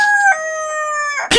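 A rooster crows once, loud and close, in a drawn-out cock-a-doodle-doo that ends in a sudden burst of noise.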